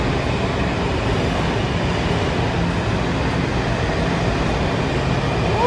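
A Green Line metro train rolls steadily with a dense, continuous rumble and rail roar, loud and unbroken throughout, with no voices.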